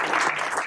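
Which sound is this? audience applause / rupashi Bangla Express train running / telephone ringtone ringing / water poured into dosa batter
audience applause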